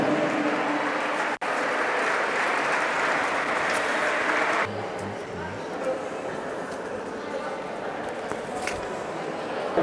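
Applause from a crowd at a handball club team presentation, a dense, even roar of clapping that drops to a softer, thinner level midway, with voices mixed in.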